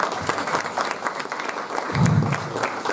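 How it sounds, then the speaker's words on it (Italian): Steady audience applause at an Italian public lecture greets a professor, a continuous close wash of clapping across the whole stretch, with a low murmur swelling slightly near the end. "Grazie dell'applauso preventivo."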